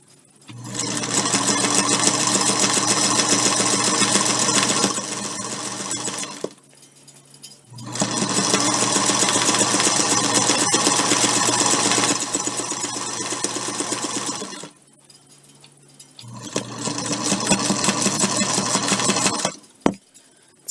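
A well-kept, freshly lubricated sewing machine stitches fabric for a DIY bowl holder in three loud, steady runs of motor whir and needle chatter, separated by short pauses, with no talking.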